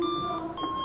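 A cheap plastic toy phone being dialled gives off steady electronic beep tones, close and fairly loud, holding for under a second with a slight dip midway.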